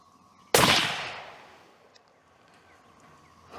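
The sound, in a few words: Savage 110 Trail Hunter rifle firing 300 WSM Remington ammo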